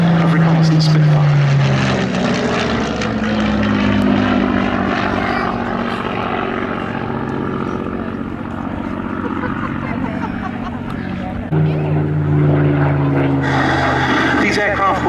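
A Spitfire PR XI reconnaissance aircraft flies past at a summer air show at Duxford, its propeller engine droning loudly and continuously with a rising and falling pitch beneath a commentator's voice.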